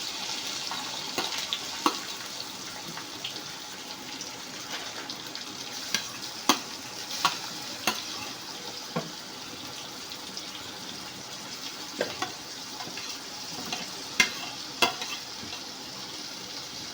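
Capsicum, tomato, onion, ginger and garlic stir-fry in a pan with a constant sizzle, punctuated by sharp spatula scrapes and taps at irregular intervals.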